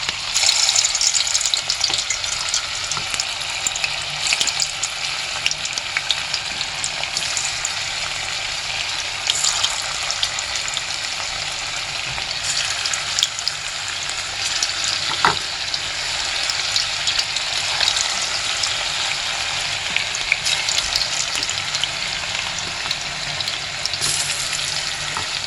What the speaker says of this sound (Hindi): ऐसे ही हम इसमें सारे मंचूरियन डाल देंगे